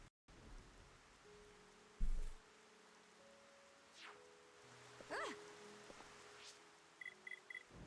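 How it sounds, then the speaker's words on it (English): Steady hiss of rain falling in a video game, faint and continuous under occasional game chimes and effects. "we got rid of the rain"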